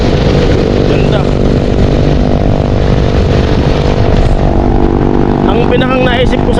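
A motorcycle engine runs steadily and loudly throughout, a constant low rumble with no clear revving, while a person talks over it near the end.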